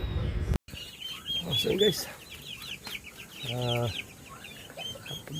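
Chickens cluck and chirp nearby with a busy, overlapping farmyard chatter among hens, roosters and turkeys, and a person's voice briefly cuts in near the start.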